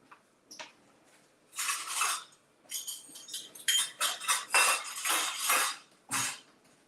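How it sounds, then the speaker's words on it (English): A knife chops through mushrooms and almonds on a cutting board in a home kitchen, a run of quiet, uneven clicking taps and scraping strokes with no talking. "slice the mushrooms and almonds and then add them to a pan with butter"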